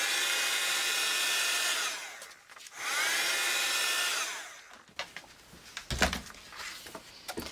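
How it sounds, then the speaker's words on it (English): A heat gun blowing over paper for a journal collage, two loud, steady whooshing bursts of about two seconds each with a brief dip between, followed by quieter rustling and handling sounds. "So I've dried it off with my heat gun,"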